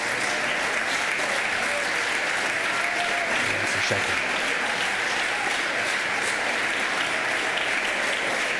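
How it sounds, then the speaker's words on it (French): Legislators in an assembly chamber applaud together after a unanimous vote, a loud, sustained roar of clapping from many people, with a brief voice speaking over it. "Ils s'applaudissent tous, ils sont tous fiers de lui."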